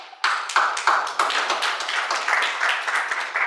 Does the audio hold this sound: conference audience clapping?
yes